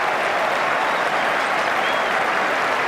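A cricket crowd at Adelaide during an Ashes Test applauds Pietersen's innings of 158, a dense, sustained wash of clapping from a large distant crowd.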